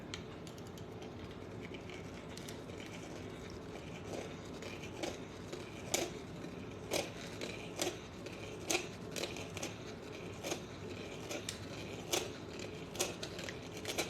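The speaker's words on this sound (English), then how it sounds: "I'm going to go back to the deburring tool again. I'm going to cut this rim out of here." Hand deburring tool cutting the rim out of a coin to make a ring, a dry scraping grind with repeated sharp clicks and ticks at an irregular rhythm, close up with no talking.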